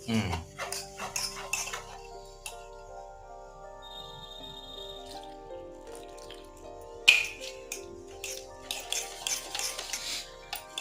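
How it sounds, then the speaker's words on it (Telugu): A spoon stirs wheat flour (atta) dosa batter in a bowl. Scattered clinks and scraping knocks come close and fairly loud against a quiet background, with a brief tonal hum in the middle. "ఫస్ట్ ఈ బ్యాటర్ అంతా కలుపుకొని ఆ తర్వాత నీళ్ళు వేస్తాను"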